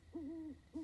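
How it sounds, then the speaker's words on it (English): An owl in the life-simulation game The Sims 4 hoots at night, with one drawn-out clear hoot followed by the start of a second, soft and alone against a quiet background. "I'm starting to hear owls and stuff. I ain't never heard an owl in The Sims."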